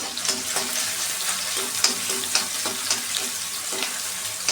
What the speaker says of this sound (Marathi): तेल गरम झाल्यावर त्यात भरपूर अशी ठेचलेली लसूण घालायची आहे. ती थोडी परतून घ्यावी.